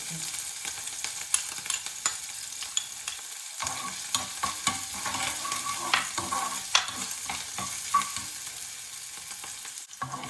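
Garlic sautés in a pan alongside green chilies, a fairly soft, even sizzle with light stirring scrapes and small ticks throughout, and no voices.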